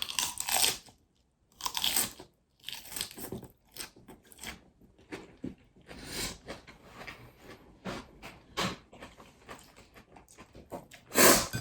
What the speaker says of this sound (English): Let's get some crunch with the lettuce first.